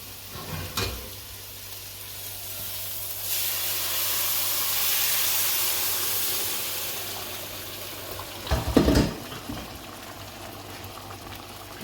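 Lentils added to a pot of frying onions and tomatoes on raised heat, giving a steady hiss and bubbling sizzle that swells and fades, with a couple of brief clatters of utensil against the pot.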